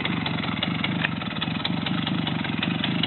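A small Romet motorcycle engine runs at a steady, mid-pitched idle-like rumble with a fast regular pulse as the clutch is let out too quickly, close and continuous with no talk.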